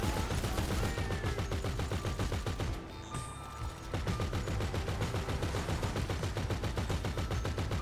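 Sustained rapid in-game gunfire from GTA Online, a steady machine-gun rhythm running nearly the whole time with a brief pause in the middle, loud and continuous.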